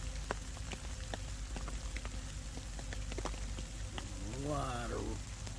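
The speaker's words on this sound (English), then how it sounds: "just steady rain. It's mostly rain now." Steady rain falls on a mountain campsite during a cold-weather snow and ice storm while someone camps overnight in a hammock. It makes a constant soft hiss with faint scattered taps, and a brief warbling chirp rises near the end.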